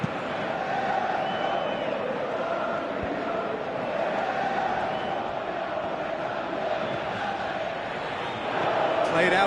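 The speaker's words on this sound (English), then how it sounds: "you can hear how the crowd are reacting to this too" Stadium crowd noise from the Pro Evolution Soccer football game on PS4, a steady broad roar of spectators with swells of reaction, sustained for several seconds and rising slightly near the end.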